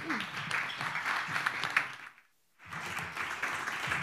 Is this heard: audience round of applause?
yes